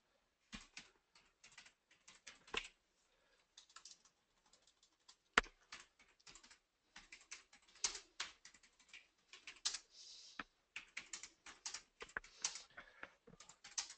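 Quiet, intermittent typing on a computer keyboard, short bursts of close clicks separated by gaps of near silence, with no voices.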